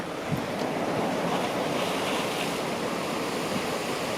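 Storm-driven seawater surges and crashes at a port in Malta during heavy rain and wind, a loud, continuous roaring wash with a soft thump near the start, heard close by without any talking.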